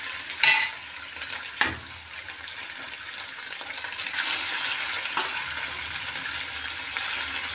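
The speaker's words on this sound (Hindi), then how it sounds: "यहाँ पर मेरी कढ़ाई गर्म हो गई है, अब ना हम इसमें पनीर डालेंगे।" Paneer frying in a hot kadhai gives a steady sizzle across the clip, with a few sharp clinks and splashes as the pieces are stirred.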